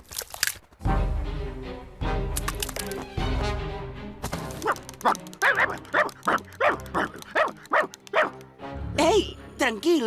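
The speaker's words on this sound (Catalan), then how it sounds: "Se us ha deslligat el gos." Cartoon dog barking loudly in short bursts, then whimpering and yipping in quick high-pitched runs, close and clear, with speech in places and some electronic effects.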